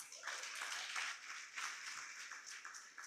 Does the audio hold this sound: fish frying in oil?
no